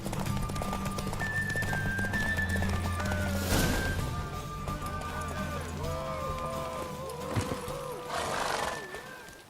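Galloping hooves and repeated whinnying from a racing mare in The Witcher 3, with rapid clip-clop, loud neighs and some roaring effects over a low background rumble.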